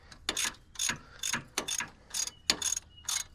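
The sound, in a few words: tightening Timken wheel hub bolts on Nissan Xterra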